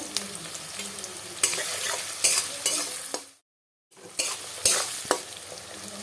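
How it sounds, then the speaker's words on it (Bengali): Onions frying in oil while being stirred in a pan, a continuous sizzle broken by sharp spatula scrapes and clacks at irregular intervals, with a short silent gap midway. "তেলে ভালো করে এর সঙ্গে নেড়ে ভেজে নিচ্ছি"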